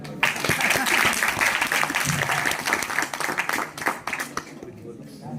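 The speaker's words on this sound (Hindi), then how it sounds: "इसके लिए जोरदार ताली" An audience at a week-long Jeevan Vidya camp review session claps heavily in sustained, dense applause that gradually thins out toward the end.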